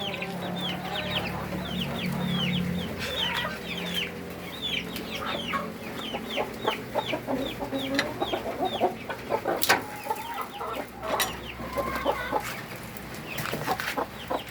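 Hens and a rooster cluck on a farm where a mother hen is laying and raising chicks, with dense overlapping clucks and short calls running steadily throughout at close to moderate range.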